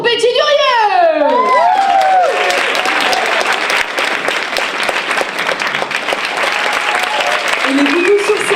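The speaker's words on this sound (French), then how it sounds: "Un tonnerre d'applaudissements pour Betty Durieux." An audience bursts into loud applause for a performer on stage, with cheers, whoops and rising shouted voices at the start, then steady sustained clapping.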